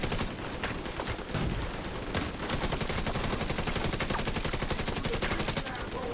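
Rapid automatic turret fire in a video game, loud and continuous with dense bursts of shots lasting the whole stretch, a voice faintly present underneath.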